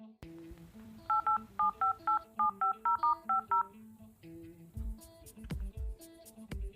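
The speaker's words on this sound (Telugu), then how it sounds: "Murthy phone number." A phone number is dialed on a telephone keypad as a quick, evenly spaced run of about ten two-tone beeps, followed by rustling and handling noises.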